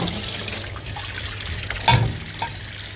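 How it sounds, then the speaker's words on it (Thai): Water sprays and splashes inside a domestic dishwasher as it washes dishes, a steady rushing hiss with a brief sharper splash near the middle, close and moderately loud with no talking. "รีวิวเครื่องรางจานจ้าทุกคน จะล้างสุดเอาสุดก็ล้างสุ"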